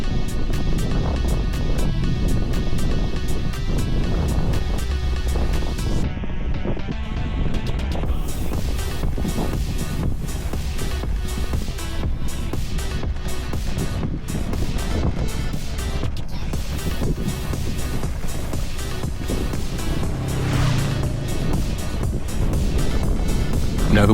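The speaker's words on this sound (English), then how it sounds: "Now the wind up here was quite severe, as you can probably hear." Severe wind buffeting a microphone high on a hill in Lancashire, a loud continuous roar with rumbling gusts that barely ease for a moment early on, no talking.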